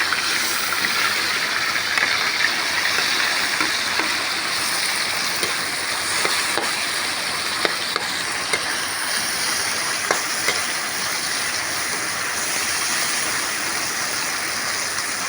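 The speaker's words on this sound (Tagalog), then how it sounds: "lutuin ko muna yung aking kikiam" Kikiam frying in a pan as a pancit bihon topping gives a steady, dense sizzle that runs the whole time, with a few small pops and crackles now and then and no talking.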